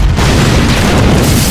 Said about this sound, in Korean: 마약 제조실로 보이는 건물이 폭발합니다